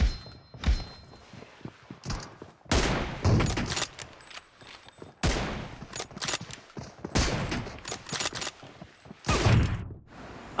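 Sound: M24 sniper rifle gunfire in video game BGMI

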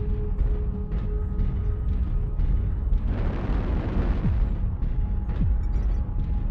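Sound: explosion of a destroyed mech in video game Mechwarrior Online

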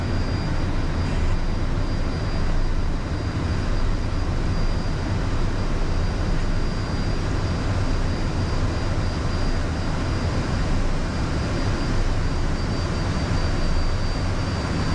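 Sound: Premier business jet takeoff roll

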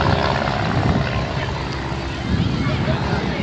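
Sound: light airplanes at an aeroclub about to take off

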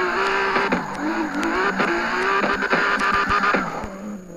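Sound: drifting car in video game CarX Drift Racing 2

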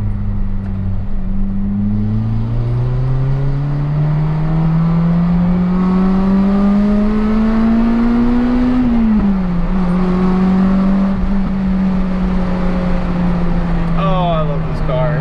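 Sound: Honda RSX car driving

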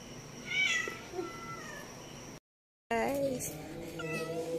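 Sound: cat meowing

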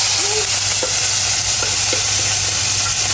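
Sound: mackerel pounded with chili being stir-fried in oil

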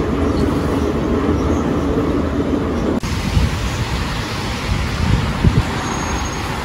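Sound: Saint Petersburg Metro train

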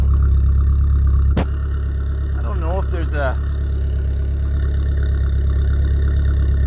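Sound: 1986 Dodge Daytona Turbo Z engine idling

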